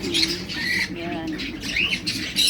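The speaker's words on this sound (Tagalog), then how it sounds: "Ang iba't iba klase ng mga ibon" Assorted birds squawk and chirp in a pet shop in Rabia, Amman, Jordan, with shrill calls scattered throughout alongside background chatter and people talking nearby.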